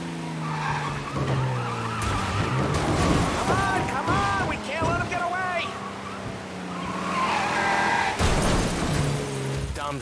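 A car in the game Mafia: Definitive Edition skids with loud, wavering tire squeals over an engine roar and knocks down a fire hydrant, with impacts scattered through the continuous vehicle noise.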